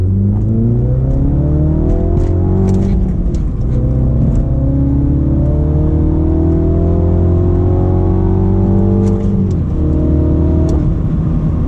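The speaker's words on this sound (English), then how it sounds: "the blow off is so much louder now" Turbocharged engine of an F56 Mini Cooper JCW with a Dinan Stage 1 tune, revving hard through the gears from inside the car, pitch climbing and dropping sharply at each shift, with a brief blow-off release on the shifts near 3 and 10 seconds.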